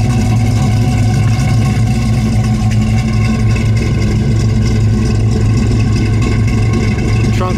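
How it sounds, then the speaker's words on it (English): An Oldsmobile 442 with dual exhaust idles with a steady, loud, close low rumble and an even burble that holds throughout. "Dual exhaust has been sitting here and running for 8 minutes. Sounds great, no smoke."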